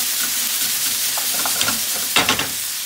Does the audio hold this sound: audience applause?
no